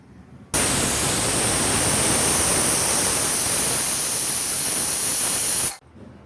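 A loud, steady hiss of steam rushes out of a pressure cooker holding eggs for about five seconds, then cuts off abruptly.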